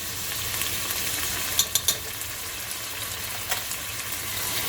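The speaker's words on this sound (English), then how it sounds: "Just going to let it brown a little bit more before I add the garlic." Chili ingredients browning in a hot pan give a steady, close sizzle throughout, with a few sharp clinks of stirring near the middle and no one talking.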